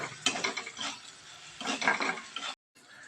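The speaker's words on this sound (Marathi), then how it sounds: "याच्यामध्ये आता तुम्हाला अर्धा चमचा हळद टाकायची आहे आणि चवीनुसार मीठ टाकून घेऊ आता छान असं हलवून घेऊत आपण" A spoon stirs turmeric and salt into spinach pakora batter in a bowl, making soft, uneven scraping and clinking strokes in two close bursts with no talking.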